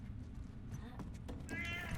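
A cat in The Last of Us Left Behind meows a few times, faint and short, rising toward the end over a low game background hum.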